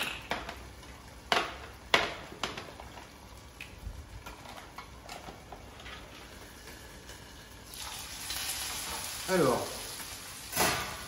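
Paella ingredients fry in a pan with a faint, low sizzle that swells in the last few seconds, under someone talking, with occasional utensil clicks and knocks.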